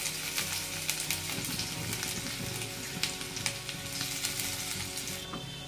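Ginger and garlic sizzle and crackle in hot oil in a kadai, a steady close frying hiss with a few sharper pops and light stirring scrapes throughout, and no voices.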